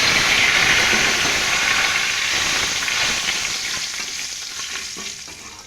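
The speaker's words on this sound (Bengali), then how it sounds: "এখন এই তেলে দিয়ে দিলাম জিরা, শুকনো লঙ্কা" Cumin, dried chilli and bay leaf fry in hot oil with a loud, dense crackling sizzle that gradually softens over several seconds, stirring noise under it and no talk.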